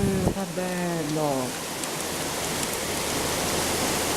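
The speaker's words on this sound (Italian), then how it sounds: "Questa è pioggia pulita. Pioggia veramente molto buona." Heavy spring thunderstorm rain pours steadily outside a balcony in Quartu Sant'Elena, a dense continuous hiss, with a voice talking over it at the start.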